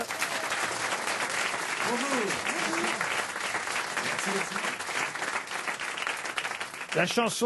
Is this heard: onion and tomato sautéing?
no